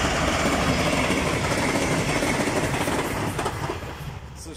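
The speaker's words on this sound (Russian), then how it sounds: "Ну, для российских поездов это очень даже быстро," A Russian train rumbles past close by, loud and continuous with rattling wheels, fading slightly toward the end.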